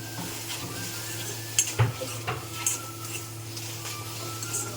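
Large tomato pieces roasting in a pan on the stove, a soft continuous sizzle with a few scraping stirs and light clinks over a steady low hum.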